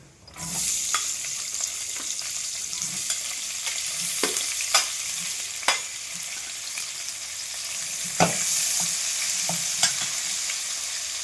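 Onions sizzle in hot oil in a pan where dried red chillies are already frying for bamboo shoot sambar, a steady crackle broken by sharp scrapes and knocks of a spoon stirring, close and alone.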